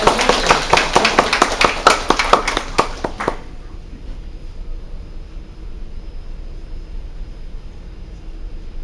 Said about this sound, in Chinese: 咱今晚呢，以热烈的掌声来欢迎我们的王讲师呢